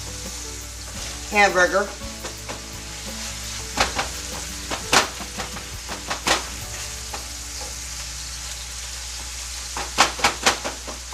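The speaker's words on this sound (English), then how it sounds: "So I want the onions to saute and get nice and soft" Onions sauté in a pot for a one-pot sloppy joe, giving a steady close sizzle broken by repeated scraping stirs and clatter, with a brief spoken word partway through.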